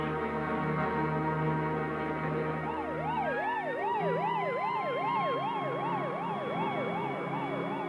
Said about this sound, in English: As the ambulance rushed off to the hospital